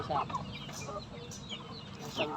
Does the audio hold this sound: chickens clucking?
yes